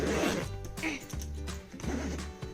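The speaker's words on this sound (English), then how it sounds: "Oh, here's the zipper." A zipper is pulled closed on a travel bag while packing for a family airplane trip, a short rasping run heard under a speaking voice.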